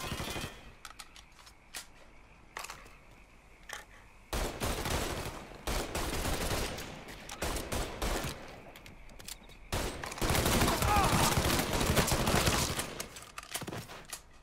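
Sustained machine-gun fire in Mafia 3, bursts of rapid shots that grow dense and loud from about four seconds in, with a heavy continuous volley near the end and no talk.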